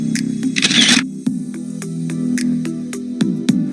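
The front camera of a Redmi Note 10S phone taking a selfie: a short burst of shutter sound followed by several sharp, scattered clicks over a steady low hum.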